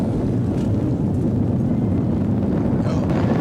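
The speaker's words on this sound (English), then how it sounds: "Americans return to space as Discovery clears the tower." Space Shuttle Discovery lifting off on its return-to-flight launch, a dense, steady low rumble with broadband roar and wind buffeting that stays loud and continuous throughout.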